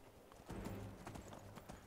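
Rhythmic clip-clop of hooves at a steady gallop in the video game Skyrim, fairly close, with a brief whinny-like burst near the start and low game-style background hum.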